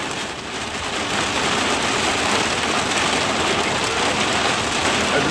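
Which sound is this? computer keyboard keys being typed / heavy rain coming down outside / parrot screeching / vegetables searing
heavy rain coming down outside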